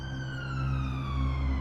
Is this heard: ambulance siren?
yes